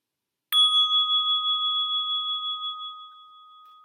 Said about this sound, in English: listening for the sound of the bell to open your eyes